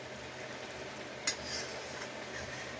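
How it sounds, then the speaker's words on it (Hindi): Aloo paneer bird nests frying in hot oil give a steady, soft crackling hiss that holds through the whole stretch, with one sharp click partway. No one speaks. "इस तरीके से हम इसे फ्राई कर"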